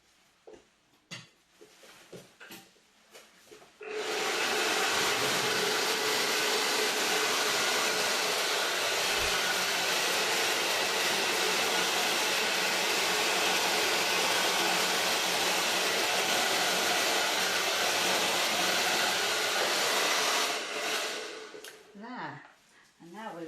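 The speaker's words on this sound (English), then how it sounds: "I'm going to blow that over with the hairdryer." A hairdryer blows acrylic pour paint in a steady, loud broadband whoosh for about sixteen seconds, with brief rustling and faint handling noises before it starts and after it stops.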